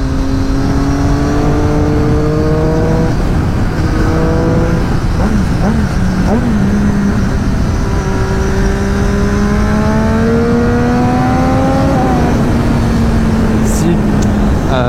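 Triumph Daytona 675 three-cylinder motorcycle engine heard while riding on the road, a loud continuous snarl with rising and falling revs through gear changes, close and dominant with wind rush throughout.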